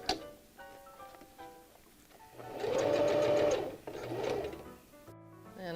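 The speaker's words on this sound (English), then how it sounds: "Now I'm taking it to the machine. And I sew a little box." A sewing machine stitches a small box on the waistband of pajama pants, running in two steady bursts of fast rhythmic needle chatter, close and clear, with quiet pauses between.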